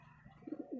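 A female pigeon from an old bloodline, held by a seller, gives a few short, faint coos near the end of a quiet moment.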